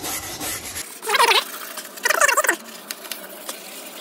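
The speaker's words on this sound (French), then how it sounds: "Moi j'utilise une brosse métallique pour faire ça." A wire brush scrubs an old window frame while a renovation window is being fitted: two short, close, raspy scraping bursts, followed by a few light taps and scratches.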